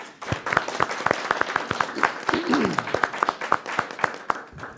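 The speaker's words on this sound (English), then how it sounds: "A round of applause, please" Applause from the audience at a school board meeting marking a retirement, a steady patter of clapping that runs for several seconds, with a brief voice rising in the middle.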